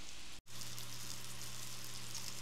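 Shiitake mushrooms sautéing in butter over medium heat, giving a steady, dense crackling sizzle that runs throughout, broken only by one brief dropout near the start.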